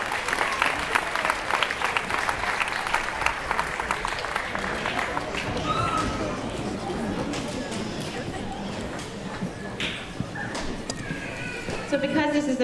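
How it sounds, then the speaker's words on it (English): Audience applause for a second grade chorus at a school grandparents day event, steady clapping through the whole stretch mixed with crowd chatter and children's voices, thinning slightly toward the end. "So big round of applause for these young singers."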